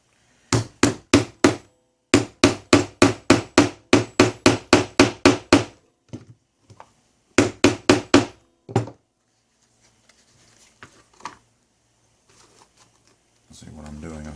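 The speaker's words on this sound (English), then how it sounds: "I guess these are actually diamond punch chisels" Diamond punch chisels are struck with a hammer into leather while a sheath is laid out. The sharp, close taps come in quick runs of several blows, with short pauses between the runs. Softer handling noises follow, and a brief low sound comes at the end.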